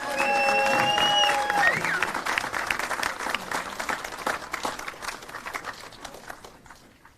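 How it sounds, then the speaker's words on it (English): Applause from a band concert audience swells as a held musical note fades, then continues as dense clapping before thinning out and tapering away at the end. "let's hear a big thunderous applause for Dr. Vroman, the birthday guy."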